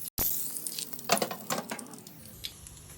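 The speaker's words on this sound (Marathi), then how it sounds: "हे पहा, मस्त जिरा तडतडलेला आहे" Cumin seeds crackling in hot oil for a tempering, a close, soft sizzle with scattered pops and faint utensil clinks over about three seconds.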